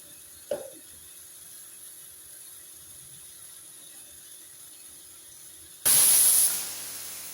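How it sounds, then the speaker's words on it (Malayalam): Pressure cooker whistle while cooking rice: a faint click early on, then a loud, sudden hissing steam whistle bursts in near the end and holds, easing slightly, with no talk. "ഒരു വിസിൽ വന്നിട്ടുണ്ട്"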